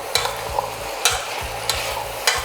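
A spoon stirs Taiwanese meat sauce with rice wine in a pot, scraping the bottom in a steady rhythm of about four sweeps. Each sweep ends in a sharp clack, over a continuous sizzle.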